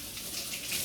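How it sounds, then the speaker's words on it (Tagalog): A kitchen tap runs steadily while hands are washed, a continuous close splashing hiss of water with no talk. "Hugas muna ako ng kamay para mas"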